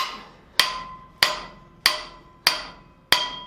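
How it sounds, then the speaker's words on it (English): Hammer blows on a workpiece clamped in a bench vise: five sharp metallic strikes at a steady, even pace about 0.6 s apart, each ringing briefly before the next. "You lock something down in the vise, right? And then you go to hammer on it,"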